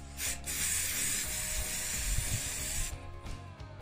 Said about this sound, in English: So I'm just going to use these to spray the wheelbarrow.